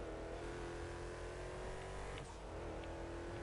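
A modded car in GTA Online with its engine holding a steady, loud, continuous drone, a rev-like swell partway through.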